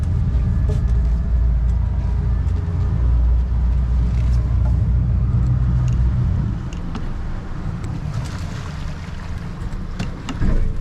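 An engine runs at low RPM, around 900, producing a deep, steady rumble close by that drops slightly in loudness partway through, with faint clicks and water-like noise above it.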